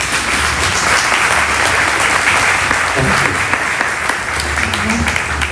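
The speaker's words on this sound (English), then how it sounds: "join me to encourage Na Maj as she comes to speak about her mom with a round of applause" Loud, sustained applause from family and guests at a eulogy gathering, many hands clapping in a thick continuous roar, with a low hum and brief murmurs of voices beneath it.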